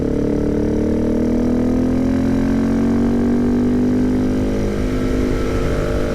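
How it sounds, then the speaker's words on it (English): A single-cylinder motorcycle engine pulls hard uphill in third gear on a rural road in Perkinsville, Arizona, its loud, steady drone rising slightly in pitch throughout, close and continuous with no talking. "You can listen to that single cylinder, man. This thing is bonkers. It's got a lot of pull."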